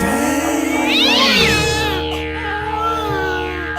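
A cat lets out a loud, close, drawn-out meow that rises and then bends downward, with a steady background hum throughout.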